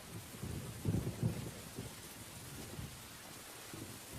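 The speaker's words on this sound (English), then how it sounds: "spring rains drench Manganini's home range." Spring rain in the Tasmanian wilderness makes a steady hiss, and a low rumble of thunder swells briefly near the start before fading back into the constant downpour.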